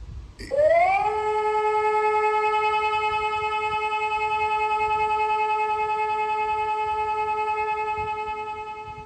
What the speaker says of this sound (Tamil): இந்த ஒலி அபாயம் நீங்கிவிட்ட நிலையில் ஒலிக்கும் போது நீங்கள் வெளியே வரலாம்